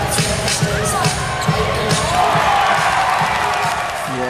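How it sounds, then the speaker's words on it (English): Crowd cheering at a Blaze basketball game against the Wollongong Hawks, a loud arena roar that swells and holds, with ball bounces and a commentator talking over it. "The crowd were loving it, and they certainly love this."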